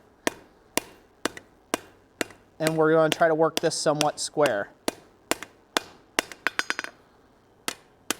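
A blacksmith's hammer strikes a steel tube on the anvil while forging candlesticks, ringing in sharp, evenly spaced blows that pause for a stretch while someone speaks, then resume in quicker bursts.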